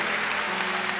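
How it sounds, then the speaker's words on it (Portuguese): A church congregation applauds together, a dense, steady wash of clapping filling the hall briefly without pause. "Quem acredita nisso, aplauda ao Senhor e tome o seu assento"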